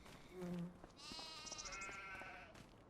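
Sheep bleating in Farming Simulator 25, a couple of nasal wavering bleats close by over faint background noise.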